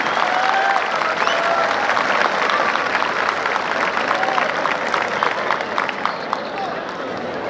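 Rodeo crowd applauding a bull from Nahuachi Guerrero and rider Quicho Sedano, a steady dense wash of clapping lasting throughout, with scattered shouts and voices mixed in.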